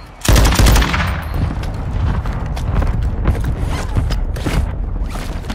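Loud, close automatic gunfire in Call of Duty Warzone 2, with rapid bursts and mechanical weapon clatter running continuously through the stretch.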